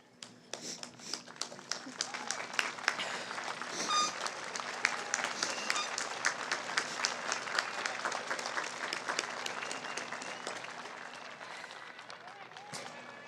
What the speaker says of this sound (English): I would like the graduating class of 2024 to please stand and applaud their supporters